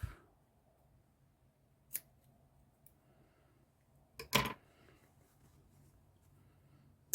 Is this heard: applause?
no